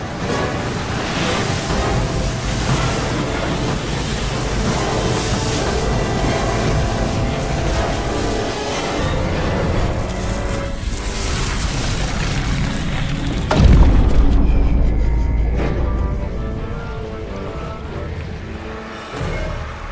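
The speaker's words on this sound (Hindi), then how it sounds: "तूफान आ गया। राजन, ये लहरें तो बहुत ऊंची हैं।" High waves crash on a stormy sea, a loud, continuous roar of surf and wind that swells into a heavy boom partway through and then eases slightly. No one speaks.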